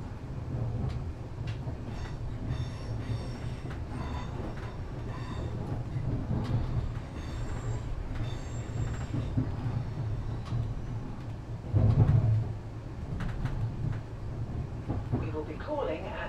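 Steady low rumble of a Class 350 electric passenger train running between London Euston and Watford Junction, with a brief louder surge partway through and faint voices in the background.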